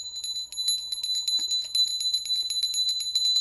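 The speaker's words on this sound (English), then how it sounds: "One further thing, a little bell. Listen to the pitch." A small bell rings repeatedly in quick, even strikes, each a bright, clear high tone with a sustained shimmer, close and fairly loud.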